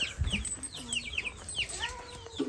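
Many baby chicks peep in high, quick descending chirps at a village home in the morning, overlapping one another nearby with a low rustle beneath.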